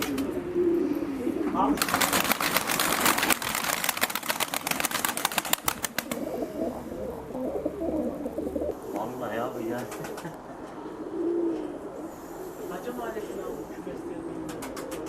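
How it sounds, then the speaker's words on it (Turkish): Domestic pigeons of a breed kept by one family for about two centuries coo in low throaty phrases, with a burst of wing flapping early on. Someone speaks briefly over the birds. "Yaklaşık 200 yıldır bizim kabımızda bu güvercinlerden var."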